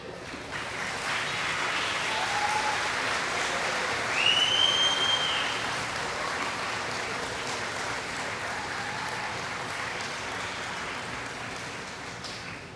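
Graduates at the Penn State Brandywine spring 2014 commencement clap for their families, a steady wash of applause filling the room, with a few whistles rising over the crowd near the middle before the clapping holds on evenly.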